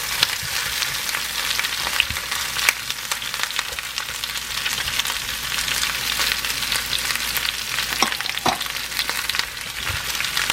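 Onion and aromatic seasonings with kaffir lime leaf, galangal and lemongrass fry steadily in a pan for a Laotian oxtail stew, giving a continuous loud sizzle with occasional crackles and stirring scrapes, no voices.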